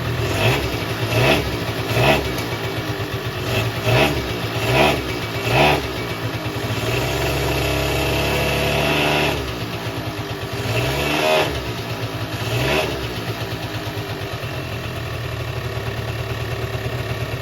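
A Suzuki LT-80 two-stroke ATV, a barn find being revived, idles with a raspy buzz and repeatedly revs in short blips near the listener, then holds a steadier higher-pitched run, loud and alone without talk.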